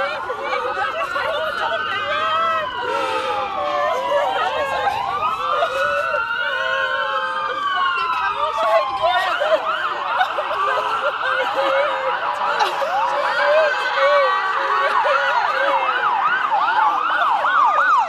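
An ambulance siren wails continuously, its rising and falling sweeps loud and close, with faint chatter from a staged emergency scene underneath.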